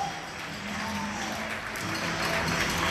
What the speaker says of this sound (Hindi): बार्सिलोना स्पेन में रोज़ाना शाम 8 बजे डॉक्टरों को तालियां बजाकर